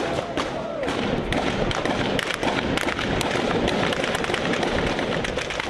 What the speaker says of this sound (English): There's a massive amount of smoke and an awful lot of firing.